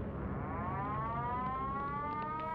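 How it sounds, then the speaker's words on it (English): A World War II air raid siren wails steadily, a long rising mechanical tone with layered harmonics, loud and continuous over a low background rumble with no talking. "we heard the air raid sirens going"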